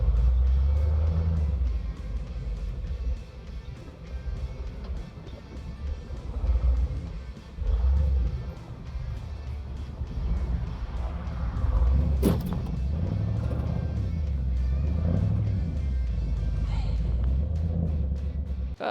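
A car strains to tow a stuck black truck forward across a rural property, a low continuous engine rumble with rising and falling revs and a sharp clank midway, steady and fairly close throughout.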